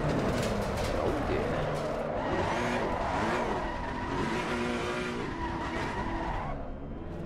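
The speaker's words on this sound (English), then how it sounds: "Love the sound of the Ferrari" A Ferrari GT3 racing car engine in Assetto Corsa Competizione at the Hungaroring revs and drones continuously at high pitch, shifting up and down, with tires squealing at times, loud and close throughout.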